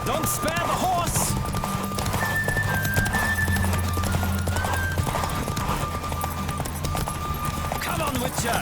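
Horse hooves clip-clopping at speed during a race in The Witcher 3, a steady run of beats under a continuous game soundtrack with a sustained tone, with a voice speaking over it.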